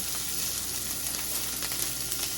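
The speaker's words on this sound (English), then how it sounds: "The first initial sizzle." Food sizzles and crackles in hot grease, a dense, steady hiss with small pops throughout.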